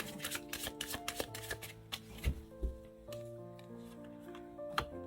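Tarot cards are shuffled and laid out on a table, giving soft papery riffles and light taps over a steady musical background.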